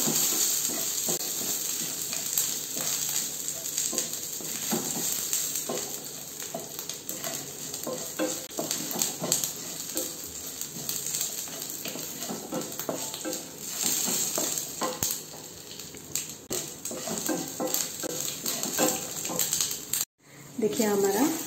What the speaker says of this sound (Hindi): अच्छे से चलाएंगे। गोल्डन ब्राउन होने तक चलाएंगे।